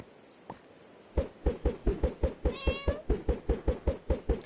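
Minecraft cat meowing repeatedly in a steady, evenly spaced rhythm, each meow loud and close with a sharp onset, alongside a brief higher chirp midway and no talk over it.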